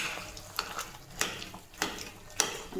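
A spoon stirs a fenugreek laddu mixture in ghee in a pan. Rhythmic scraping strokes land roughly every half second over a soft, low sizzle, close and fairly quiet.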